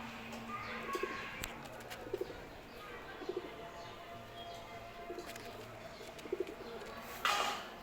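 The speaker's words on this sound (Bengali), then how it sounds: "এই নর কবুতরটা আমি ছেড়ে দিচ্ছি, এবং এইবার দেখেন আপনারা নর আর মাদি।" Pigeons, including a male and a female, coo in soft, repeated low calls at a moderate distance, spaced through a quiet, hissy background with a brief rustle near the end.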